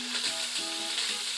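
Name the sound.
beef tongue frying in bacon fat in a pan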